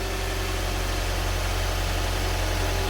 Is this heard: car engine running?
yes